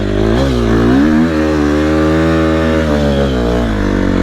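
A KTM SXF 250 motorcycle rides in sand, its engine roaring loud and close in a steady drone whose pitch rises and falls slightly.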